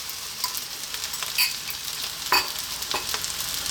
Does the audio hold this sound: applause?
no